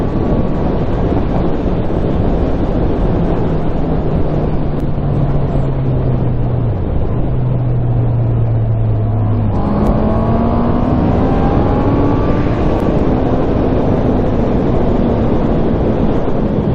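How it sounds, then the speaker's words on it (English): Motorcycle engine screaming at high revs while riding, either a Honda CB650R or a Yamaha MT07, a loud continuous roar with a pitch dip as it shifts, then climbing again, under heavy wind buffeting. "Blisteringly fast in a high rev range"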